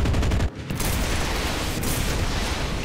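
Continuous heavy gunfire and explosions from a World War II tank battle game set in the city of Pokrovskoe during the Battle of Moscow, a dense loud barrage with one brief dip near the start.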